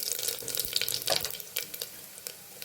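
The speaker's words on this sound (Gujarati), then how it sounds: "હવે આપણે પડી રાઈ નાખીશું, થોડી જીરું એડ કરીશું, થોડી હિંગ નાખીશું." Mustard seeds, cumin and asafoetida hitting hot oil: a bright crackling sizzle with scattered pops and spits, close and moderately loud at first, then settling into a steadier, softer fry.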